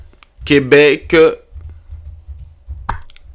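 Computer keyboard keys tapped while a web address is typed, giving a run of light, quiet clicks after a short spoken phrase.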